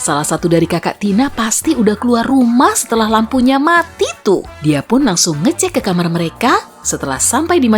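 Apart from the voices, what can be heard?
No everyday noises stand out.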